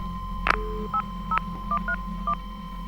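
A handset click followed by a series of short landline telephone dialing tones, six or so beeps in an uneven rhythm over a faint steady hum.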